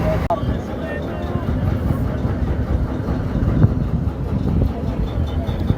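Trawler boat engines drone steadily at Joymoni in the Sundarbans on the route to Dublar Char, a constant low rumble with wind buffeting the microphone and a sharp knock near the start.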